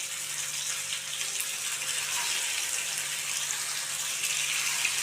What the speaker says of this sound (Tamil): இப்போ நம்ம பிசைஞ்சு வச்ச மீனை ஃப்ரை பண்ணிடலாம்.